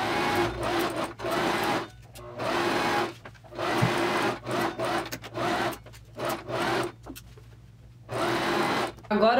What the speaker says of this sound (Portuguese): agora eu vou para a máquina e vou fechar uma costura reta em todo esse contorno